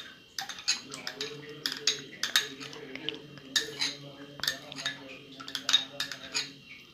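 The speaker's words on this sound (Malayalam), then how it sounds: "എന്നിട്ട് നമുക്കൊരു സ്പൂൺ വെച്ചിട്ട് അത് മിക്സ് ചെയ്യാം." A metal spoon clinks and scrapes inside a glass as carrot and beetroot juice sweetened with honey is stirred, giving repeated irregular close taps over a faint low hum.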